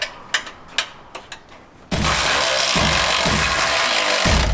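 A 3/4 inch socket works on the front bumper bolts of a Jeep JL Wrangler, with a few spaced ratchet clicks followed by a loud, sustained close mechanical whirring.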